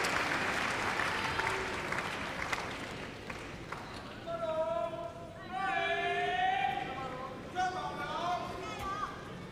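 A crowd at the 2007 ITTF World Tour French Open table tennis match between two players breaks into applause that swells and fades in waves, while a commentator speaks over it.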